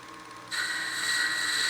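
A wood lathe cuts through a wooden ring blank, giving a steady high whirring hiss that grows louder and brighter after a brief quieter start.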